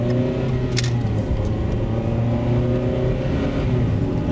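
A car accelerates with the engine note rising and shifting as the gearbox changes gears oddly, a steady interior drone with a brief higher whine near the start and no talk.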